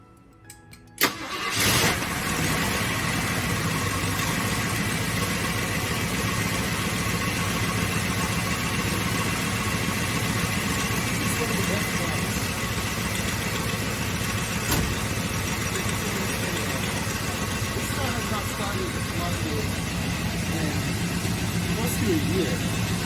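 An AMC Matador engine cranks and catches, then settles into a steady, loud idle with a slight rise from a touch of throttle, running continuously close by.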